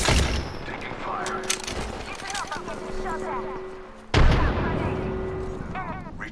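Gunfire in the Apex Legends video game crackles in rapid bursts at mid distance, with a sharp loud shot near the end, layered under game effects and voice callouts.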